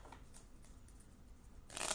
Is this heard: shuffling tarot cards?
yes